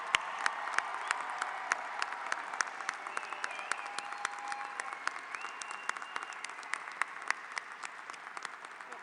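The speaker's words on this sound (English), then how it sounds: "Please join me in a round of applause for our newly master's recipients." Sustained audience applause at a fall graduate school commencement ceremony for new master's recipients, steady dense clapping from a large room, moderately distant, with a few faint tones underneath.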